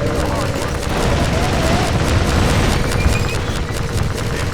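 Heavy, continuous gunfire and explosions in the video game Half-Life 2 Episode Two, a loud dense barrage of rapid shots and booms that barely lets up, with voices shouting underneath.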